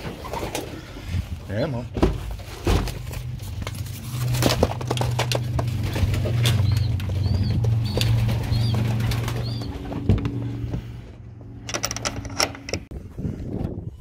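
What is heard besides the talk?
pigeons in a loft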